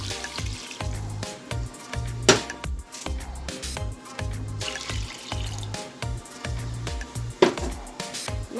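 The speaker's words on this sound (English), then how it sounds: "I'm going to add a bowl and a half of water." Water pours into a pan of chicken fried rice, trickling and splashing against hot food with a faint sizzle, in fairly loud, uneven gushes over several seconds.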